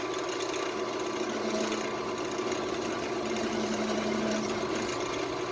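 Harbor Freight lathe running as a tool gently scrapes an epoxy resin shifter knob, a continuous close motor whine with a steady buzzing scrape layered over it, no talk.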